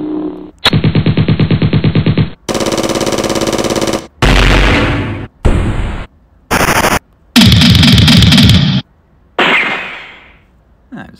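Series of stock weapon sound effects added in a phone video editor: rapid machine-gun bursts, sustained automatic fire, booming blasts and short gunshot volleys in quick succession, loud and close with brief gaps between each effect.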